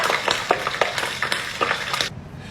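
Hot oil crackles and sizzles steadily with sharp pops and stirring scrapes as soybean caterpillar larvae deep-fry, close up, before cutting off abruptly near the end.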